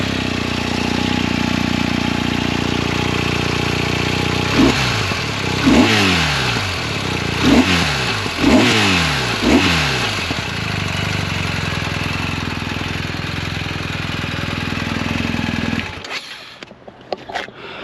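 A BMW R1250 GS boxer-twin motorcycle on its stock exhaust idles steadily, then revs sharply five times in quick blips before returning to idle and shutting off, heard up close with no speech.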